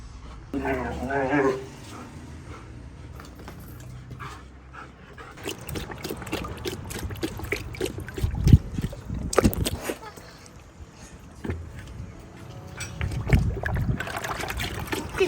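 A dog laps water eagerly and splashes its face wet, wet slurps and dribbles under frequent close talk from a woman.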